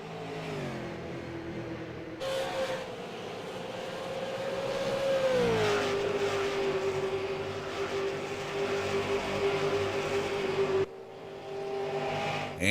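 Race cars lapping Phoenix International Raceway in a sim racing game, engines holding a steady high drone that climbs and drops in pitch through a gear change, with a loud near engine and others blending behind, no talk.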